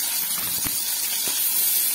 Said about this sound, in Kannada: ಎಣ್ಣೆ ಕಾದಿದೆ. ಈರುಳ್ಳಿನ ಫ್ರೈ ಮಾಡ್ಕೊಳ್ಳೋಣ ಚೆನ್ನಾಗಿ.